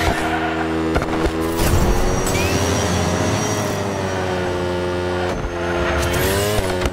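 Racing cars close behind the player in the video game Hot Wheels Unleashed 2, a steady loud engine whine with rising and falling pitch that carries through the whole stretch under game music.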